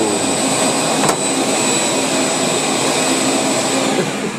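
A workshop vacuum roars loudly and continuously beside a table saw, a steady high-pitched whooshing drone with a brief click near the start and no voices.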